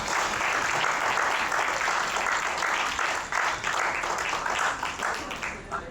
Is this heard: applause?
yes